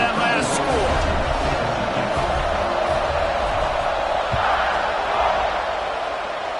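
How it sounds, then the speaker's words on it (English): Football stadium crowd buzzing after a score and extra point, a dense, steady roar of many voices with scattered cheers, broad and continuous throughout, with a faint announcer-like voice beneath. "this crowd is buzzing after that last score"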